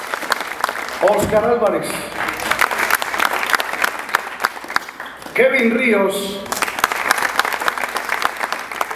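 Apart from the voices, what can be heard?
audience applause at a cycling team presentation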